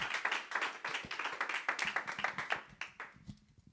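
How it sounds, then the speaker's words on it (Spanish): A church congregation clapping along during a sermon, a quick rhythmic patter of many hands fairly close, steady for a few seconds before thinning out at the end, with no talk over it. "Vamos, un aplauso con fe."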